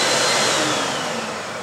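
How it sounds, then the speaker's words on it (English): A shop vacuum hooked to a power tool runs steadily during a furniture-building job, a loud, even whooshing roar that fades slightly toward the end. "So I've got the vacuum plugged in, the tool trigger's on"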